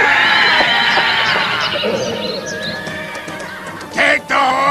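A horse gives a loud, close, wavering whinny that rises and falls over a few seconds, followed by a brief sharp snort.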